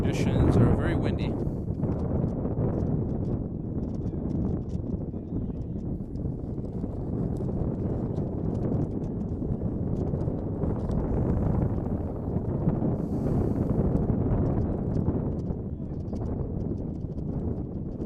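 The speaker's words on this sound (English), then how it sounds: "Conditions are very windy." Strong wind buffets the microphone at an outdoor youth soccer field during a boys' combine match, a steady loud rumbling roar throughout with no speech.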